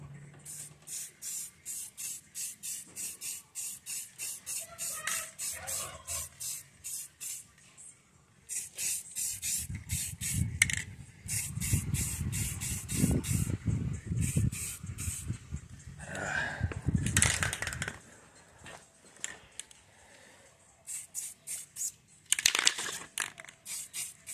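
Spray painting a truck roll pan outdoors on a windy day: bursts of hissing aerosol spray come in repeated short pulses, with a heavier rushing stretch in the middle, close and fairly loud.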